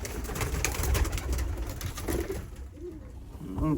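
Pigeons cooing in a loft, soft low rolling coos near the end over faint rustling and shuffling, with muffled background noise.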